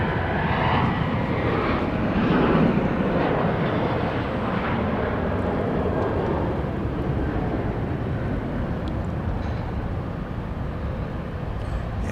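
At Dallas Love Field, a departing airliner roars loudly and steadily for several seconds, a broad rumbling engine thrust that swells early and then holds, heard alone with no voices.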